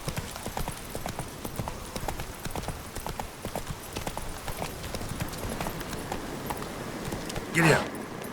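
A horse's hooves clip-clop at a steady walking rhythm in The Witcher 3, fairly quiet and even, with a brief louder burst near the end.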